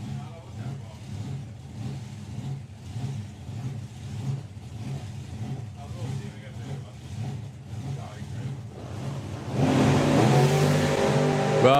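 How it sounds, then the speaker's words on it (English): Supercharged small-block Ford Anglia drag car at a drag racing event, its engine running loud and lumpy with pulsing low rumble, then rising sharply into a louder revving roar near the end while a commentator talks over it. "Supercharged small block in there for the Anglia"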